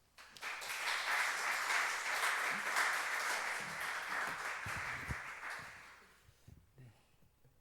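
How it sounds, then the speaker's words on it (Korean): Church congregation at a Korean mission service applauding to welcome a missionary: sustained, fairly soft clapping from a roomful of people that swells quickly, holds steady, then fades out. "박수로 맞이하겠습니다"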